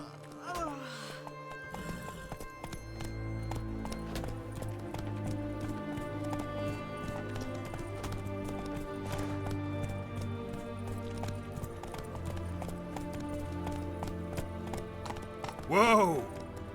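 Geralt's horse Roach gallops in The Witcher 3, a steady rapid clip-clop of hooves running through the whole stretch, with a brief whinny near the end and game music and voices around it.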